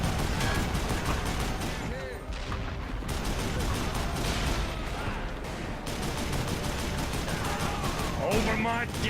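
Gatling gun fire in the Western shooter Call of Juarez: Bound in Blood, rapid continuous cranking bursts layered with other gunfire and explosions, loud and dense throughout, with voices shouting in the mix.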